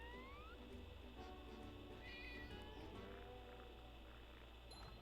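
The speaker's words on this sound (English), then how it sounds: "That was an actual cat sound." A cat meows several times over a steady background of game music and sound effects, the cries rising and falling in pitch.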